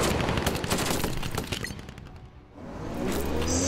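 Artillery and infantry gunfire from a Conflict of Nations strategy game battle between Ukraine and Belarus: a dense, continuous barrage of overlapping shots and blasts that eases briefly near the middle and then swells again, with no talking.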